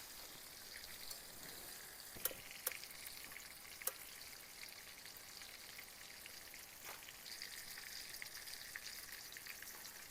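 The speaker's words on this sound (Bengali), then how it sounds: "মিডিয়াম আঁচে পটলগুলোকে ভেজে নেব।" Pointed gourd (potol) pieces frying in oil over medium heat, a soft, steady sizzle running throughout with a few sharp pops and crackles, fairly quiet and alone.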